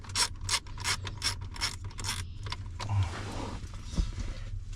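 A hand ratchet loosens a 7mm bolt under the dash of a 2001 Ford Super Duty, giving several close, rhythmic clicking strokes in the first half followed by softer handling and rustling noises.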